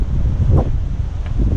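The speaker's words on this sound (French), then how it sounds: "Il y a du vent" Strong wind buffets the microphone near salt pans on Majorca, a loud continuous low rumble with brief gusty swells.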